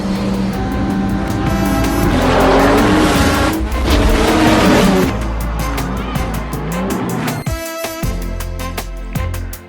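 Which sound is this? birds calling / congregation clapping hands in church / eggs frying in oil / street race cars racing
street race cars racing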